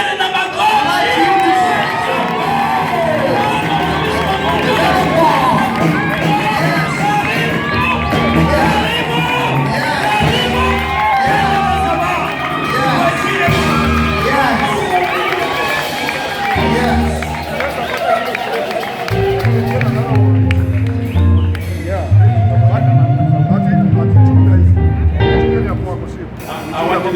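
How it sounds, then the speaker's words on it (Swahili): A church congregation responds loudly with cheering and ululation, sustained as a dense crowd roar from start to finish, rising and surging strongly near the end. "naomba vigeregere na makofi"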